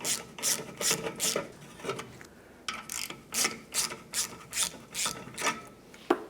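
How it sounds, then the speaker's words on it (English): A ratchet clicks in quick repeated bursts, close and crisp, with a short pause partway through, as a banjo bolt comes off a brake hose on a 1999–2006 Chevrolet Silverado 1500. "Go ahead and remove that banjo bolt and recycle the gaskets."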